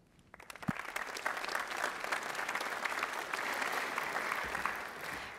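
A school awards ceremony audience applauds. Quiet at first, the clapping rises into a steady, fairly distant wash of many hands that continues without a break.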